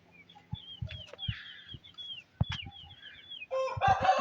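A fresh young rooster with a white beak clucks and calls in short, irregular bursts, mixed with thin chirps from other birds nearby and a louder flurry of clucking near the end.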